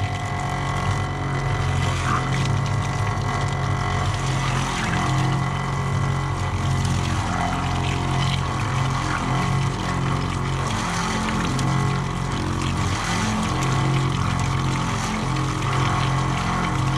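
A pressure washer driven by an IGX800 engine runs loud and steady while spraying water for a residential brick wash, its constant engine drone and rushing spray continuing unbroken throughout.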